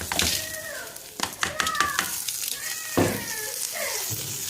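Rice is added to vermicelli in a hot pan for Egyptian koshari, giving a soft, crackling sizzle heard close by, with voices and short kitchen noises over it.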